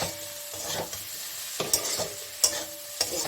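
Green and ripe red chillies fry in an oiled pan while a spatula stirs them, giving a close, steady sizzle with repeated scraping strokes and sharp ticks, and nobody speaking.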